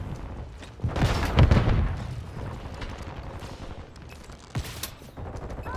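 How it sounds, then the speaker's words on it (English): Shotgun blasts in a squad-based shooter video game, a heavy burst of booming fire near the start, then a sharp single report later amid steady battle noise. "trying to shoot a couple of shotguns at him"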